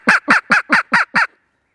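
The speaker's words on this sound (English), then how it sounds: "we got a bird over here in the woods that's actually gobbling" A wild turkey gobbles in the woods: one loud, close rattling burst of six quick, evenly spaced notes, then silence.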